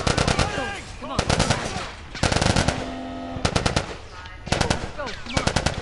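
Rapid automatic gunfire from The Last of Us on PS4 Pro, loud bursts of machine-gun fire in several volleys separated by short gaps, sharp and close, with voices heard between the bursts.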